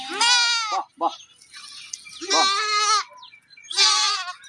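Young goat kids bleat loudly and close by at a goat farm, three long wavering cries separated by brief pauses and a couple of short calls.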